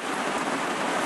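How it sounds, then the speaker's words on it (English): Steady rain pours down outdoors, a dense continuous hiss close by that fills the whole moment with no voices over it. "So here comes the rain again."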